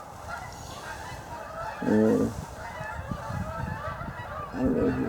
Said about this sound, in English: We got some Canadian geese going overhead.